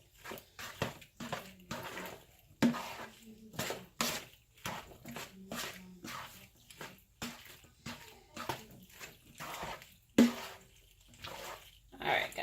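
Baked mac and cheese mixture stirred in a bowl, giving a run of wet, squelching strokes in a loose rhythm, close by, with a person talking over it.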